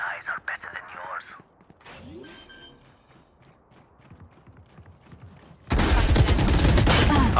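Gunfire in the shooter game Valorant erupts as a loud, dense burst of rapid shots in the final seconds, after quieter stretches with a voice and faint in-game noises.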